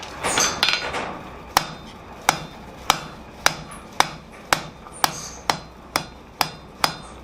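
A blacksmith hammers heated 6mm square steel stock on an anvil, drawing out a short taper: a quick cluster of blows, then a steady series of sharp ringing strikes about every half second, close and clear.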